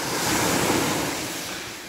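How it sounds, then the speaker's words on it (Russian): Rough sea waves off Odessa surge in a broad, loud wash of surf that swells and then slowly recedes, with no voices. "Море такое неспокойное сегодня, прям волна за волной."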